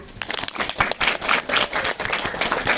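A group claps together during an interview session; dense, steady applause fills the whole stretch at a fairly close distance, with no talking over it.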